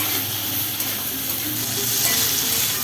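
Potatoes sizzling in a pan with asafoetida water while being stirred for a vegetarian potato curry, a loud continuous fry with scraping stirs and no talk.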